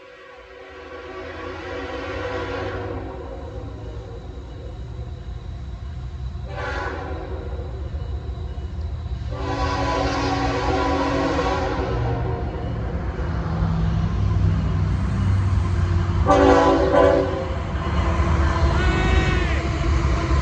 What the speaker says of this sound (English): here comes our first train